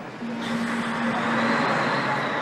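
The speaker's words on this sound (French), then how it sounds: "Le camion redémarre." A truck starting up and pulling away with a rising engine rumble and a steady low tone amid general road noise, heard at moderate distance.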